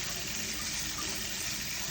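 Tap water runs steadily over canned butter beans being rinsed, a close, continuous broadband splashing hiss with no pauses.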